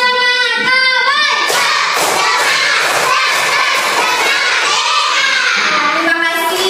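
A group of children chant a rhythmic cowboy spirit clap cheer together, loud shouted voices filling the room with crowd-like energy and occasional thumps, continuous throughout.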